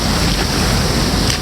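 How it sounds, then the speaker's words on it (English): Ocean surf from an incoming tide washing onto the shore, a steady loud roar of breaking waves with wind buffeting the microphone throughout, no voices. "the tide's coming in, so this is going to be interesting"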